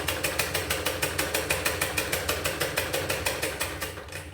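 A sewing machine stitches a blouse, joining the main fabric and lining with a steady, rapid mechanical rattle of evenly spaced needle strokes that runs close and loud throughout, slowing slightly at the very end.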